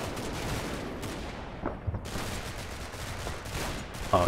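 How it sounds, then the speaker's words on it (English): Small arms fire in the WWII Normandy tactical game Combat Mission: Battle for Normandy, a steady crackle of distant rifle and machine-gun shots rattling throughout with scattered sharper reports. "Quite a lot of small arms fire on the go here."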